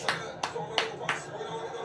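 Four quick, slightly irregular hand claps from a fan watching the Kayserispor–Galatasaray football match ring out close by over a steady murmur of background broadcast noise.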